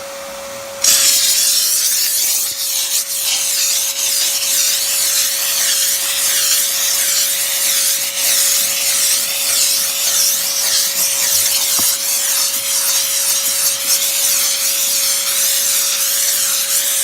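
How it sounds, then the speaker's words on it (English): A McCulloch 1275 steam cleaner steaming carpet fibers produces a loud, steady hiss with a constant tonal whine, close up and continuous for the whole stretch, with no talking. "Now we're going to grab the steamer, we're going to get in there and break down those dirt particles"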